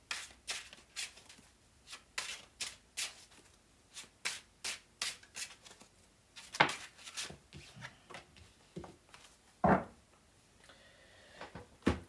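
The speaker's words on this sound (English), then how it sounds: "Anything else from this foil deck" Shuffling of a foil tarot card deck by hand: a quick run of crisp, papery riffles and slaps in an irregular rhythm, close and fairly quiet, with a few louder card snaps near the end and no talking.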